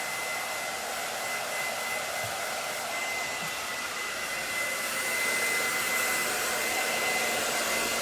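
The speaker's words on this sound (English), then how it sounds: "I do a lot of my shorter blow dries like this with the comb." Hair dryer running steadily at close range, blow drying a short layered women's haircut with a comb; a continuous, even whoosh across the whole stretch, growing slightly louder near the end, with no talking.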